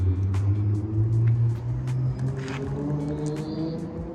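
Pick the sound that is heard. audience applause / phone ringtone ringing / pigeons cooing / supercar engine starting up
supercar engine starting up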